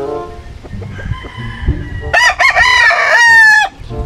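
Gamefowl cluck at a game farm, then a rooster lets out a loud, close crow lasting about a second and a half, set against low background sounds.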